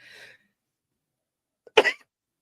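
A single short, sharp cough bursts out after a brief muffled sound, preceded by a faint hiss; otherwise quiet.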